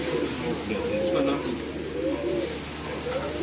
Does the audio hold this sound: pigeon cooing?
yes